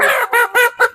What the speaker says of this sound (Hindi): मुर्गी जो है ना सफर करके आई है